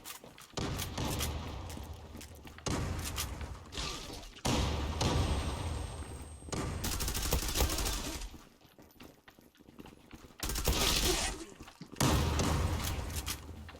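Gunfire in the online shooter game Zula comes in several dense bursts of rapid shots with short gaps between them, moderately loud, with game thumps and impacts mixed in.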